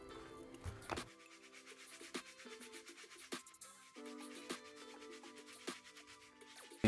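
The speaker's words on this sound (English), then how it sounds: "hit this outsole, and that's gonna be done with a stiff bristle brush" A stiff bristle brush scrubs the outsole of a white shoe in steady back-and-forth strokes, close and fairly quiet, with rhythmic rasping passes and brief pauses between them.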